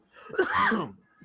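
A single sharp sneeze, loud and close, followed by a brief faint vocal sound.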